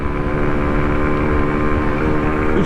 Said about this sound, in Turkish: 3. viteste 60 gördü motor.